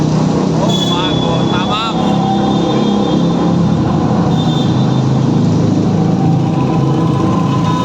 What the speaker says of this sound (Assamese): বাইকৰ চাউণ্ড কেনেকুৱা ওলাই ইয়াতে